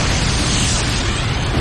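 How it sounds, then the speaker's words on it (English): GDI infantry barracks exploding in the Renegade video game, a loud, close, sustained roaring blast of broadband rumble and hiss lasting under two seconds. "GDI infantry barracks destroyed."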